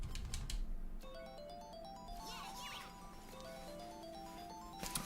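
Ringtone-like melodic jingle from the Sonic Racing video game, a bright tonal tune of stepped beeping notes playing steadily with game effects, no speech over it.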